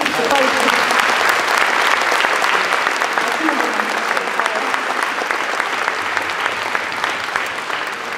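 An audience at a mayor's New Year greetings ceremony breaks into sustained, even applause, a thick close crowd of clapping lasting several seconds with only slight easing toward the end.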